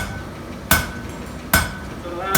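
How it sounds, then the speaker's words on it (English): Three sharp, evenly spaced hammer strikes ring out as half-face blows land on hot steel over an anvil, each a bright clang followed by a brief decay over low background noise. "Doing what's called a half-face hammer blow."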